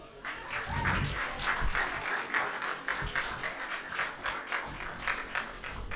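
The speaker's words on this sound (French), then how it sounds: "vous pouvez vous applaudir" A crowd of over a hundred people at the Science et Fiction event applauds itself, giving a soft, fairly distant patter of clapping that runs steadily and evenly for several seconds.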